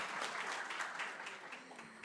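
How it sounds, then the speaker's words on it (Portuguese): An audience applauds at an academic event, a soft, fairly distant wash of many hands clapping that holds steady for about two seconds and fades slightly toward the end. "Vamos lá, podemos sempre aplaudi-las."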